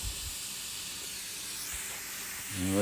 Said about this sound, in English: we're getting good steam now